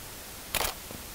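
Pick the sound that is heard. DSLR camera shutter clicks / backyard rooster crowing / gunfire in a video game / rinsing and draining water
DSLR camera shutter clicks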